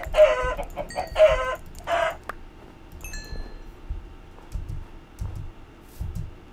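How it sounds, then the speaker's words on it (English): A Minecraft chicken clucks three times in quick succession at the start, clear and close, followed by sparse soft game noises and a few low thumps. "Hello, chicken."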